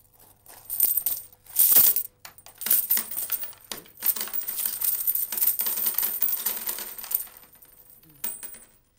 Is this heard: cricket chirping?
no